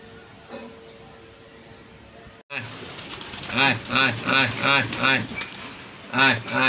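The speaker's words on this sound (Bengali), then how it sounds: "কবুতর উড়া দিলাম।" A flock of pigeons coos in a repeated, rhythmic series of rolling calls close by, starting after a brief quiet stretch and continuing loudly to the end.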